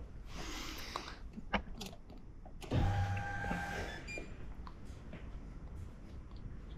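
Volvo electric power steering pump fitted in a twin-turbo Coyote-swapped Foxbody Mustang whirs to life with a brief electric motor hum, preceded by faint clicks and handling noises, close and fairly quiet.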